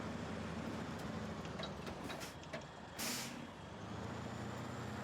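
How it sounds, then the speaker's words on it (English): Heavy truck handbrake in the SnowRunner driving game, a short sharp pneumatic hiss of air release near the three-second mark, standing out over a steady low engine drone. "that's when it's appropriate to use the handbrake. When you want to stop in short order"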